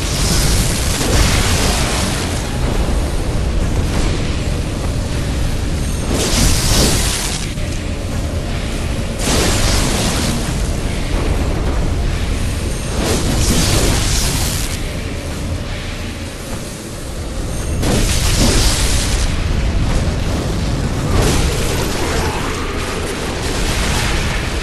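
Fire bolts bursting in Bloodborne, a string of loud, heavy booms and blasts rolling one after another over a dense, roaring game soundscape, with no gaps of quiet.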